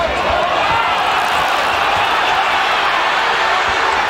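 Basketball arena crowd at a 1997 Trail Blazers at Houston Rockets NBA game, a steady loud roar of many voices rising in protest over a missed traveling call, continuous with no clear breaks.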